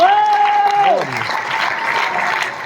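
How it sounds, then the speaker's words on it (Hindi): Standing audience applause at a Milifestyle event, steady, loud clapping from a crowd that continues for a couple of seconds, with a voice talking over the start. "एक बार खड़े होकर तालियां बजा सकते हैं क्या मेरे गुरुजनों के लिए?"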